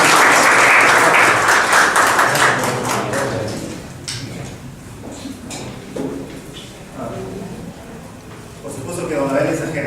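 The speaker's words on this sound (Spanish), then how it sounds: "Por favor, recibamos con un fuerte aplauso." An audience applauds loudly at first, the clapping thinning and fading over several seconds before a brief swell near the end.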